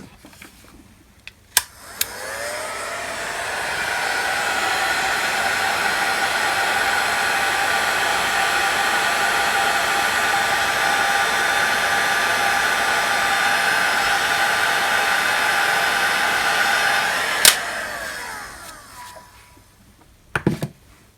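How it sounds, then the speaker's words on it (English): Small heat gun blowing hot air while working on a CNC ethernet upgrade, a steady close whooshing roar that spins up, runs evenly for about fifteen seconds, then winds down, with clicks at switch-on and switch-off. "Little heat gun."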